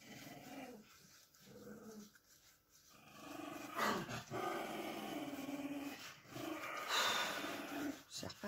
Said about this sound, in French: Ils sont en forme les chiens ce matin